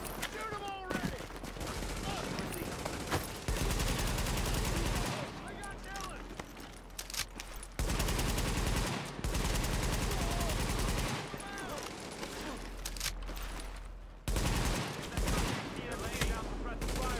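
Gunfire in The Division video game, with loud sustained automatic bursts in several long stretches separated by brief lulls, mixed with chaotic combat noise and voices.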